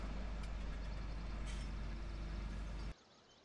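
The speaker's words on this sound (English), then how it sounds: "Let's shut our motor off." A truck engine in Farming Simulator 17 drones steadily at close range, then cuts off abruptly near the end, leaving a much quieter background.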